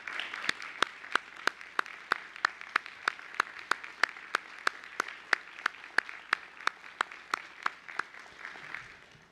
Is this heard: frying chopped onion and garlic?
no